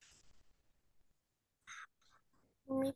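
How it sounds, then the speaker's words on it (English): A few short, nasal duck quacks sound close by, separated by brief pauses, with the final quack the loudest. "Quack. One duck."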